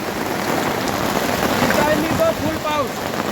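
Heavy unseasonal April rain in Konkan pours down in a dense, constant hiss, with faint voices murmuring underneath.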